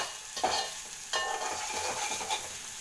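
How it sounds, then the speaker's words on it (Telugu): Alichandha and soya being stir-fried in a pan, with a couple of spatula scrapes over a steady sizzle that continues at moderate loudness. "పచ్చివాసన పోయేంత వరకు ఇలా కలుపుతూ ఉండాలి. ఎందుకంటే కలపకపోతే మాడిపోతుంది కాబట్టి ఇలా కలపాలండి."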